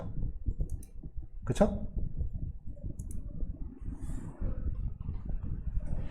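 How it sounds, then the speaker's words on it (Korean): A computer mouse clicks crisply while someone opens a folder in Windows Explorer, with a short spoken word and faint background hiss. "윈도우 탐색기에서 내가 가고 싶은 폴더 이렇게 클릭하면 되죠"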